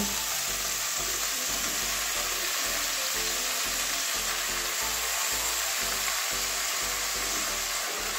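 Spinach, eggplant and potato fry in a pan, giving a loud, continuous sizzle with a faint rhythmic thumping underneath, no talk.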